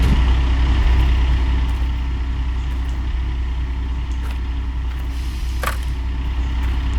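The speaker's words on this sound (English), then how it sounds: "let's pull our handbrake" A heavy truck in Gold Rush: The Game idles loudly with a deep rumble, and a single brief hiss-click of the handbrake being set cuts through it near the end.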